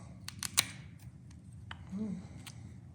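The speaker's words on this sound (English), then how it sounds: "Just gonna cut this tab off the top." A few sharp snipping clicks as scissors or cutters take a plastic tab off the top of a SeeLevel tank sensor for a truck camper, close and quiet, with faint low background noise.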